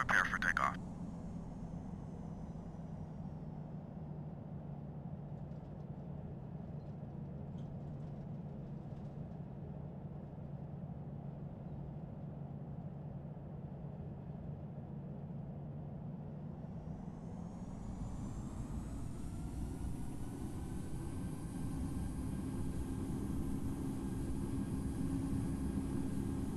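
An airliner in the Infinite Flight game rolls for takeoff from Jakarta Soekarno-Hatta, a steady low engine rumble that swells into a louder, rising whine as thrust builds, with faint speech early on.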